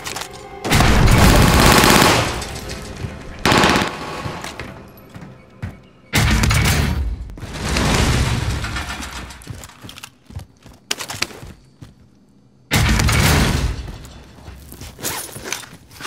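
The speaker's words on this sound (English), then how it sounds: "I'm hearing explosions, dog." Loud bursts of explosions and gunfire in Call of Duty: Warzone come in heavy clusters, separated by quieter stretches with scattered cracks and thuds.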